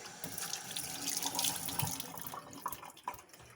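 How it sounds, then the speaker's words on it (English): Tap water runs steadily into a kitchen sink as a hand is rinsed under it, a close, continuous splashing hiss that thins out near the end with a few drips and knocks. "Now I'm going to rinse my hand."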